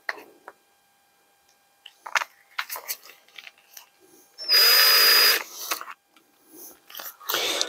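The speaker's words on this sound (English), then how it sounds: "Just chuck this in the drill" A power drill whirs loudly for about a second amid scattered clicks, handling noises and short bursts of activity, heard close up, while drilling a part for a Ford Model T.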